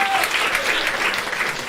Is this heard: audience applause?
yes